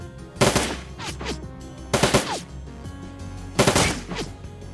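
Three bursts of automatic gunfire from the video game Shadowrun: Dragonfall, each a loud, rapid rattle of shots about a second long, separated by short pauses with a low ambient hum underneath.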